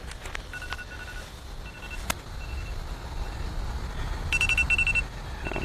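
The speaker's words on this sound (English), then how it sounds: "Go away, timer." A kitchen-style timer alarm goes off near an outdoor beehive, sounding as short repeated electronic beeps in bursts, with a clearer cluster of bright beeps near the end over steady background noise.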